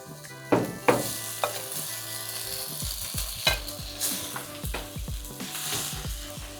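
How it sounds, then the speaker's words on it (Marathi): Pasta stirred into sautéed vegetables in a hot pan, a steady sizzle and frying hiss under repeated scraping and clanking strokes of a spoon against the pan, close and continuous, with no talking. "आता याच्यामध्ये आपण पास्ता मिक्स करूया"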